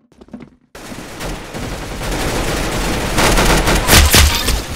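Rapid gunfire in Roblox Arsenal, a dense, loud burst of game shots that starts abruptly after a short quiet moment and keeps rattling continuously to the end.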